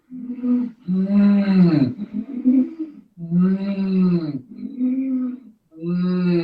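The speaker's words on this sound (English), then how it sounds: "a kind of sound, rasping sound like this on the back of the throat." A voice makes long, rasping breaths at the back of the throat, several drawn-out hoarse sounds in a row, close and loud.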